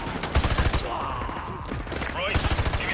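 Gunfire from the Call of Duty: Modern Warfare 2 Remastered campaign comes in two dense, loud bursts of rapid shots with a steady battle-noise bed between them.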